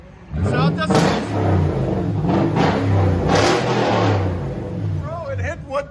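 A Toyota Tundra 5.7L V8 with true dual straight pipes revs up loudly several times, deep rumbling pulls rising and falling close by, while people talk over it.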